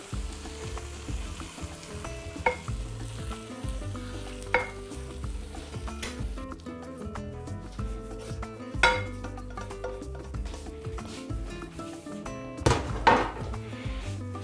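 Rice with fried ingredients is stirred in a hot pan, giving a continuous sizzle and frying hiss punctuated by scraping strokes and occasional sharp utensil knocks against the pan.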